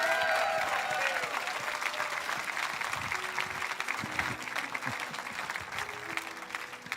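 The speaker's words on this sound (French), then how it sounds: "Est-ce qu'on peut se lever et applaudir le privilège que nous avons de génération?" A church congregation gives a standing ovation, dense sustained clapping from many hands filling the room at a steady level from start to finish.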